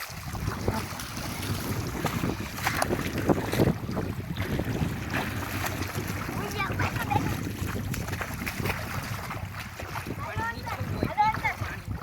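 Fresh water flows steadily at a farm where a small child is being bathed, a continuous rushing wash with gusty, noisy texture, and voices talk over it now and then.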